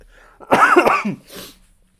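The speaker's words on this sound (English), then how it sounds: "apologies for the cough" A single loud, close cough from a man with a lingering cold bursts out alone, followed by a softer breathy throat sound, with quiet room tone before and after.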